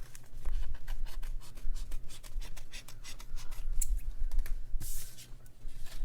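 A paper bookmark trimmed by hand: a rapid series of close, dry snips and scratchy cuts through paper, dense at first and thinning out near the end, with a brief rustle of handling and no talking.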